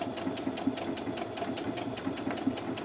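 A Brother A16 sewing machine stitches fabric at close range, a continuous motor hum overlaid with rapid, regular needle ticks.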